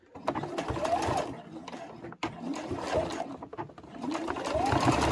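Sewing machine stitches a fabric mug rug in a steady rapid run, briefly pausing midway, with a person speaking over the mechanical hum.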